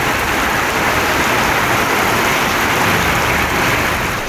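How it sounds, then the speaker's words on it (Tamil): Moderate summer rain falling over villages in Erode district, Tamil Nadu, a steady, dense, loud hiss with no voices and no pause throughout. "மிதமான மழை பெய்தது"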